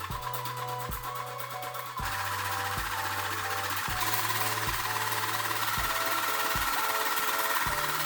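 An oral irrigator water flosser pulsing 2750 times a minute buzzes in a rapid, steady mechanical rhythm. It is close and even, with its tone shifting partway as the mode or flow changes.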